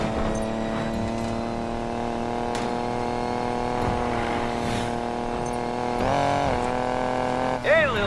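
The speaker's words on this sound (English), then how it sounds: "Better hurry, engines are revving." Race car engines in the Need for Speed video game hold a steady droning hum with rising revs near the end, under a voice speaking.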